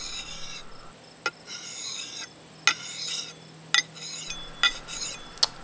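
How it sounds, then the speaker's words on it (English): A scythe stone is drawn along an axe edge in repeated rasping strokes, several in a row with sharp metallic ticks at their ends, close and clear. "As I flip the axe over, I now switch to a drawing stroke as a matter of convenience."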